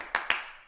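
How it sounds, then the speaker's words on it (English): Two sharp hand claps ring out in quick succession, close and fairly loud, with a short reverberant tail and no voices. "Clap."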